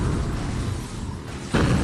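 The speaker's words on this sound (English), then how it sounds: "someone obviously has C4. That's what the explosions are for." Explosions from C4 charges in the motorcycle combat game Road Redemption, a continuous rumbling blast-like roar that swells into a louder, heavier burst near the end.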